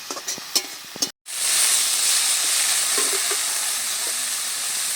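Fried small fish tossed with thankuni leaves in a pan give off a continuous, even sizzle after a few light clinks and a brief cut, with no one speaking.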